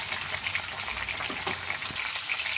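Ivy gourd masala curry frying in a pan gives off a steady, close sizzle, with soft crackles and pops running through it alone.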